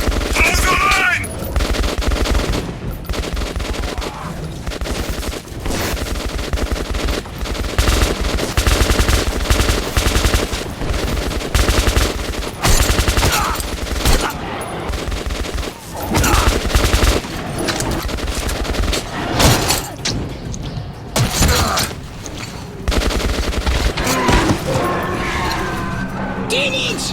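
Intense bursts of automatic gunfire and rapid shots in the first-person shooter Metro 2033 Redux, loud and nearly continuous with brief gaps, mixed with game effects and shouted voices.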